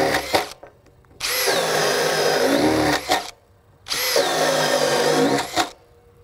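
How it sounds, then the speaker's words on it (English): A Makita 40V max XGT brushless hammer drill boring a 1.25-inch hole in wood, two long, loud sustained runs of motor whine and bit grinding, each stopping abruptly with a short quiet gap between. "Obviously, a 1-inch bit is not going to push this drill at all."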